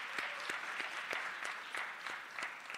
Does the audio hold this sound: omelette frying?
no